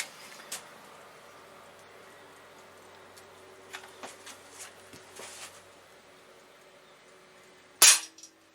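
Crosman 1377 air pistol firing a Crosman 7.4 grain pointed pellet: one sharp, loud crack near the end, preceded by faint handling clicks and ticks in a quiet room.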